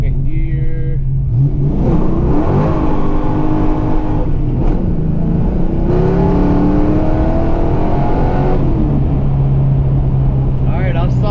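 A Foxbody Mustang on nitrous accelerates hard in second gear, its engine note climbing steadily in pitch with a brief dip mid-run, loud and close inside the car, with a voice speaking over it.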